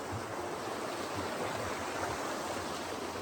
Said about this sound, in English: The creek here.